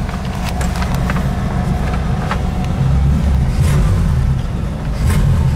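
A 1966 Ford Mustang Fastback runs with a loud, deep rumbling engine note that swells slightly as it revs, heard close up with a few sharp clicks and knocks over the steady drone.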